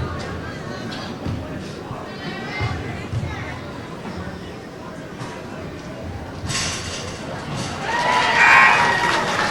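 Crowd noise at a high school basketball tournament game between East St Louis Flyers and Lincoln, a steady murmur of chatter rising into louder cheering near the end, with voices talking throughout.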